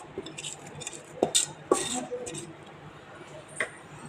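A spoon mixes fried ingredients into idli batter in a bowl, giving a few soft clinks and scrapes that are fairly quiet and spread out.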